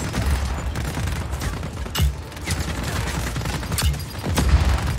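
Grenades and gunfire erupt in a Just Cause 4 firefight, with a dense run of loud booms and sharp blasts landing close together and several heavier explosions standing out above the steady chaos.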